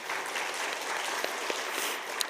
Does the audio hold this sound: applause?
yes